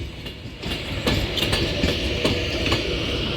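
An Avanti West Coast Class 390 Pendolino pulls into Crewe station, wheels clicking rhythmically over rail joints with a steady rolling rumble and traction hum, loud and close.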